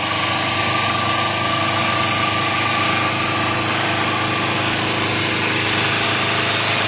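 A motorcycle engine runs steadily at a fast idle throughout, a constant buzzing drone with no change in pitch and no talking.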